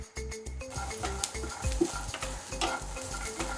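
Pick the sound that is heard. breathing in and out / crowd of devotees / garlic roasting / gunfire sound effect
garlic roasting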